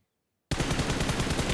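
Loud automatic gunfire from a PUBG Mobile esports match, with shots aimed at a window, bursts in after half a second of silence and continues as a dense, rapid, sustained volley.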